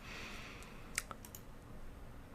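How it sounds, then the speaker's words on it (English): Typing on a computer keyboard: a few faint, sparse key clicks with one sharper tap near the middle, over a steady quiet room hiss, with no talking. "Just typing in some junk and hitting save."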